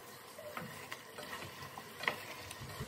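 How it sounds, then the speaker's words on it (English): Chili powder and paprika being stirred into a curry dish made with Madras curry powder, giving soft, steady scraping and light sizzling with a few sharper spoon taps, close and alone. "Give this a good mix."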